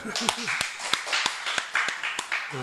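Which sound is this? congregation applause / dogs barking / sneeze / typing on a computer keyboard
congregation applause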